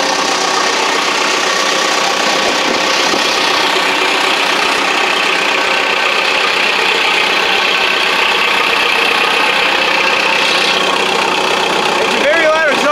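A cold-started 480D diesel engine idles with a loud exhaust, a steady, rough, throbbing rumble that runs unbroken and close throughout.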